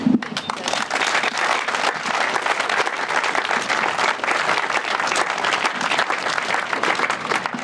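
Steady applause from a crowd at a fire station dedication in Needham, dense clapping that carries unbroken from start to finish at close range.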